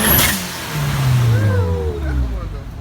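A turbocharged 240 car revs its engine nearby, a low droning roar rising and falling over about three seconds with a brief higher whine, while people talk over it.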